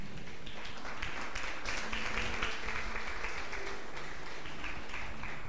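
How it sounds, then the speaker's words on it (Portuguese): A church congregation applauds together during an evening service, a steady, even wash of many hands clapping that fills the room without a break. "dê um aplauso ao Senhor Jesus"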